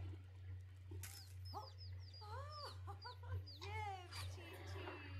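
A flock of chickens clucking in the life-simulation game The Sims 4, with a run of quick, distinct clucks and squawks over a steady low electrical hum, no talking.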